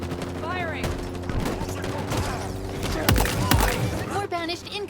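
Heavy gunfire from the Halo Infinite video game, a dense continuous fusillade of loud shots and blasts close by, with a steady droning layer and occasional voices mixed in.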